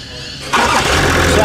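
A 2017 Land Rover Discovery 3.0 turbo engine with a power-loss, limp-home fault cranks and fires after a quiet half second, then settles into a loud, steady running rumble close by.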